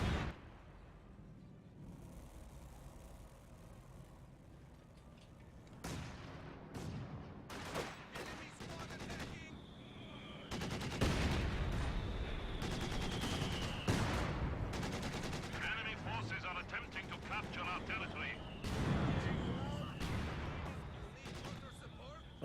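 Machine-gun bursts and heavy artillery blasts from a Company of Heroes 2 battle, dense repeated gunfire cracks and booms layered over rumbling explosions throughout, with a voice talking now and then.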